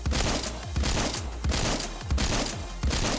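Shotgun in the video game Phantom Forces fires five loud, booming shots in steady succession, each about two-thirds of a second apart, over a constant game background.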